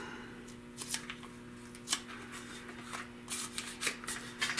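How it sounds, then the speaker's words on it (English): Green automotive masking tape is pulled and pressed onto a rally-style wheel rim before painting, giving repeated crisp tearing and crinkling bursts at close range in an otherwise quiet room. "And tape this up."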